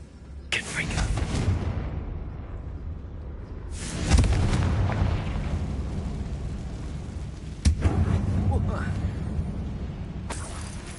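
Fiery Confringo spell blasts in the Hogwarts Legacy video game go off inside a mine, three loud bursts each trailing into a long rumbling decay.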